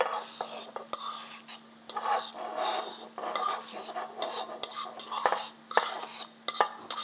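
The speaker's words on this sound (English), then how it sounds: "first I smash them on a plate, then later I transfer them into a bowl." Beans being smashed on a plate for akara produce gritty rasping and scraping sounds in irregular strokes, close and fairly quiet, with soft whispery rubbing between the louder scrapes.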